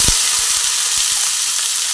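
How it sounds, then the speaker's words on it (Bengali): Raw papaya frying in oil gives off a steady, loud broadband sizzle, with a few soft low knocks from the pan scattered underneath. "সেই জন্য আমি পেঁপেটা আলাদা করে ভেজে নিচ্ছি।"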